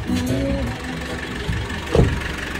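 A Foton Tunland pickup's Cummins 2.8 engine runs steadily close by, a low continuous rumble with a brief louder surge near the end.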